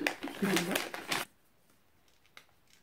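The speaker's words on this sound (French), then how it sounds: "je vais quand même ouvrir cette enveloppe" A paper envelope is torn open in a quick, close rustling rip lasting about a second, followed by near silence with a faint paper rustle.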